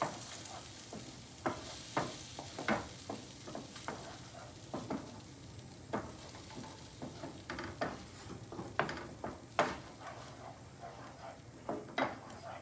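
Gravy paste fries in leftover oil on a slow stove, a low steady sizzle broken by frequent soft scraping and stirring clicks of a utensil against the pan, close but fairly quiet, with no talking.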